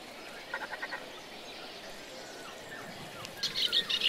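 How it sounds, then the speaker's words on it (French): An eastern olivaceous warbler sings beside a Bulgarian river, its short, faint chirping phrases rising twice over a steady wash of river noise, the second burst a little louder. "cet oiseau est là depuis quelques jours et chante du matin au soir, une hippolaïs pâle"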